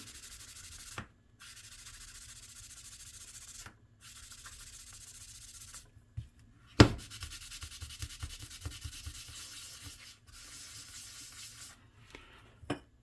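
The pivot area of a Boker Plus / Sniper Bladeworks S2 folding knife is scrubbed clean with a steady rubbing, sanding-like hiss in repeated strokes separated by short pauses, close and fairly quiet.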